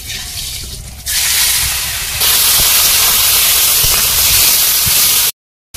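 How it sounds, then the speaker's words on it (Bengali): Fish fry in hot oil in a wok over a dry wood fire, a loud, steady sizzling hiss that swells after the first second and holds until it cuts out briefly near the end. "ওদিকে মাছ ভাজা হচ্ছে"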